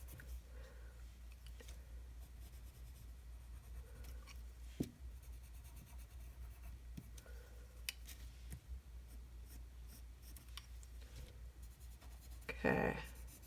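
Colored pencil scratching lightly across a printed Tonic Studios gin glass design, a faint, steady rubbing under a low background hum, with one brief louder rustle near the end.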